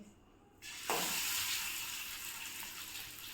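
Fish hit hot oil in a home kitchen as a large four-kilogram batch is fried, a sudden loud hiss that swells into a steady, close sizzle.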